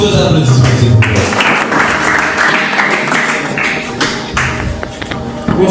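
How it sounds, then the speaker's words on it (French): An audience claps at a special simulation session in a steady, dense wash of applause that holds throughout and thins slightly toward the end, with some overlapping sounds and possible voices mixed in. "Sous vos applaudissements, s'il vous plaît."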